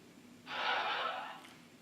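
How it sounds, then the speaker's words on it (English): A short whooshing send notification from the Dragon Dictation app marks an email going out: one soft swish lasting about a second, faint and alone. "That is the sound of an email being sent!"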